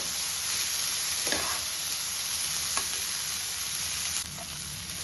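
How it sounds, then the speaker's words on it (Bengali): Chopped tomato and capsicum fry in a pan with a loud, steady sizzle that holds throughout, a couple of soft stirring scrapes rising above it before the hiss eases slightly near the end. "এবার আমি এর মধ্যে দিয়ে দেবো টমেটো কুচি আর ক্যাপসিকাম কুচি"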